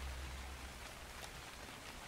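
Rain falling in the video game ARK, a steady, even hiss of rainfall with a soft low rumble at the start, continuous and moderately quiet with no voice.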